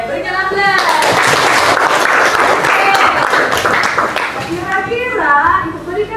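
A classroom audience claps in a dense, loud burst of applause lasting several seconds, tapering briefly before a second swell, with children's voices and chatter mixed in.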